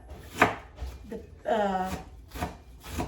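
A knife cuts an onion into tiny cubes on a board with a few close, distinct chops and scraping strokes, spaced unevenly over a few seconds.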